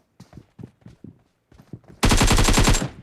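Automatic gunfire in the mobile battle royale game BGMI: a few soft footstep-like taps, then a loud, close, rapid burst of shots lasting under a second.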